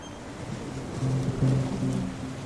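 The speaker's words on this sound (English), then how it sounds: "the family cling to the wreckage of the boat as the waves relentlessly batter them" Ocean waves break over and batter the wreckage of a boat at night, a washing surf roar that swells louder midway, with low tonal creaks and hums rising beneath it.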